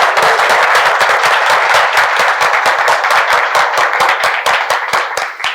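Loud, sharp rhythmic clapping from an audience at a business school app launch, fast and steady, with no talk over it.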